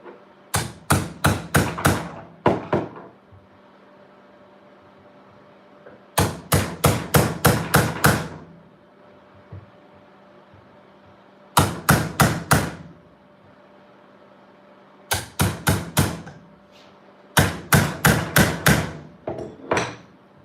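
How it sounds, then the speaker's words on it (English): Hammer blows on a chisel while prying open an HHO Brown's gas generator, struck in sharp, loud bursts of four to six quick hits separated by short pauses, with no talking. "We could try a chisel."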